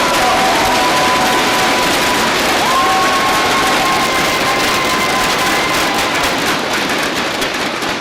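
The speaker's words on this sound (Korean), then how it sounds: "뜨거운 박수 부탁드립니다." A crowded hall fills with loud, continuous applause from the audience at a Korean party's founding convention, heard as a sustained wash of clapping and cheering with no break.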